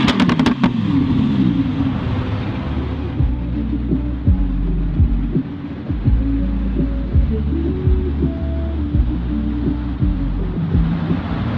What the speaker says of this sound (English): I'm going to do some revs. Listen.